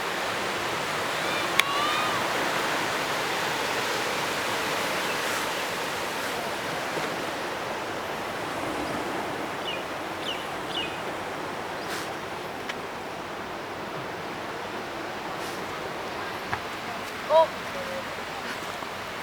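Sea surf washes steadily onto a hotel's private beach on the west side of Koh Chang island, a continuous broad wash of breaking waves at moderate distance with faint distant voices of people in the background.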